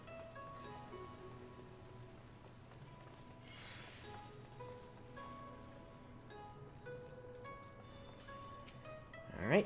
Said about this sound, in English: Looks like it's a rainy one in here today.